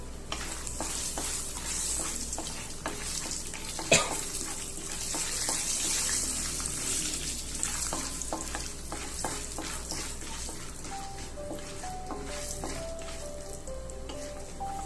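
Peeled peanuts roasting in a pan, with a soft continuous sizzle broken by repeated scraping and stirring clicks from a utensil, close up and without voices.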